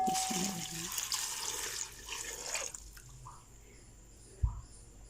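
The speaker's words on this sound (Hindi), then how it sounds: "ये 3 गिलास पानी इसमें ऐड कर देना है" Water pours into a pot of black chickpeas with spices and ginger-garlic paste, a steady splashing rush for about two seconds that then gives way to quiet kitchen background and a single soft knock.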